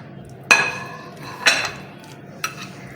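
Utensil clinks against a bowl while dim sum filling of shrimp and chicken is mixed, three distinct scraping knocks spaced about a second apart, close and alone in a quiet kitchen.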